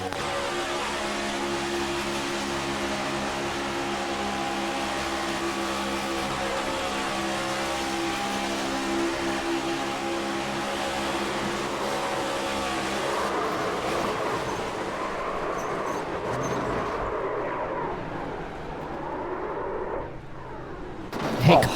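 On-board engine of a race car during an AREA Cup Series race at Atlanta, a loud sustained roar with steady harmonic whine that shifts and fluctuates toward the end as the car slows and revs change, with no talking.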